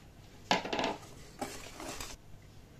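Flour and cake batter for a pound cake are stirred in a bowl, a spoon scraping and clinking against the sides in two short bursts of mixing, close and fairly quiet.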